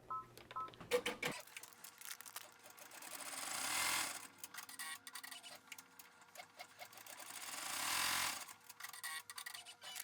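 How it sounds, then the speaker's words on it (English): An embroidery machine stitches a circular tack-down with small center accents on a hat, its rapid needle chatter running steadily and close, swelling into two louder sustained whirring passes. "And now we're going to add our circle tack down, and with some little accents in the center."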